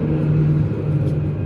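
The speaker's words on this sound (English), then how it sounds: "Tractor going by there." A tractor drives past a vegetable garden, its low engine rumble and steady hum holding fairly loud and close for a moment before easing slightly, with no talk.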